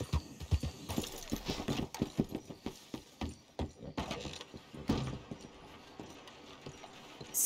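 Horse hooves clip-clop through a video game scene, a run of fairly close, uneven thuds and knocks with no voices.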